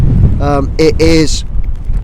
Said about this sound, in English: It has just turned quite windy